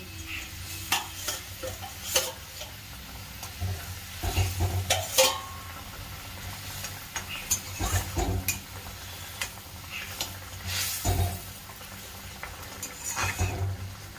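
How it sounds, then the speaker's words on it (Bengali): Fish pieces going into a boiling Bengali mustard-poppy curry, with scattered stirring clatters and splashes over a soft sizzle and bubbling, the louder knocks coming in small clusters. "ঝোল ফুটে গেছে, মাছগুলি দিয়ে দেবো।"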